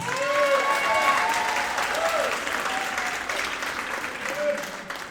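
Middle school concert audience applauds the drummer in steady, moderately loud crowd clapping, with voices and faint whoops scattered through it.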